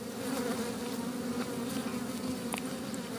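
Honeybees swarm over open hive frames holding brood, giving a dense, steady, close buzzing drone that fills the whole stretch with no voices.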